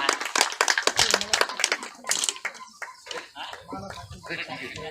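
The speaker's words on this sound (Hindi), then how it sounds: "आप सब लोग इनका ताली बजा करके स्वागत करें" An audience claps to welcome a speaker at a memorial gathering for a freedom fighter, a dense burst of hand claps that thins out after a couple of seconds into scattered claps and background murmur.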